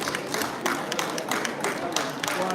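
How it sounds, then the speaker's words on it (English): Audience applause at an author and publisher felicitation ceremony at a book fair, a steady, loud, dense clapping that continues throughout. "Let's give a round of applause,"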